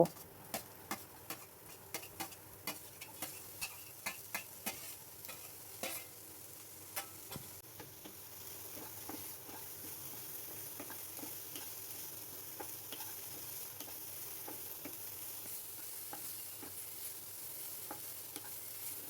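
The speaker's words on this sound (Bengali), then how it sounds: "সবজিগুলো হালকা করে ফ্রাই করে নিলাম।" Vegetables fry lightly in a pan, opening with a run of regular stirring taps that give way to a soft, steady sizzle. Quiet and close, with no voices.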